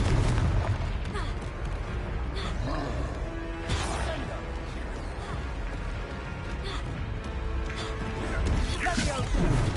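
A Confringo fire spell bursts in Hogwarts Legacy, a loud booming explosion with crashing debris over dense, rumbling game noise.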